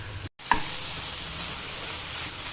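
Chicken cubes and tomato frying over high heat, a steady close hiss of sizzling after a brief gap and a small clink near the start, continuing alone without talk.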